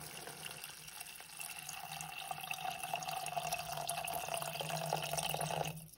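Water runs steadily from a tap into a soup pot at home, a soft continuous pour and splash that slowly grows a little louder before stopping abruptly.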